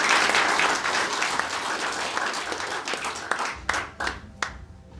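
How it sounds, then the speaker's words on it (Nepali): An audience at a Brahma Kumaris talk in Hetauda bursts into loud, dense clapping that thins toward the end into a few scattered, separate claps. "ताली त ठोक्नु पर्छ।"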